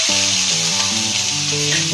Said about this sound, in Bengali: এবার এটাকে নাড়িয়ে ভালো করে 2 মিনিট মতো কষিয়ে নেব।